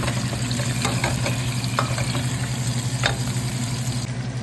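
Garlic is stirred in a pan while preparing an Ivorian fish soup, with a steady close sizzle and a few scraping strokes of the spoon across the pan.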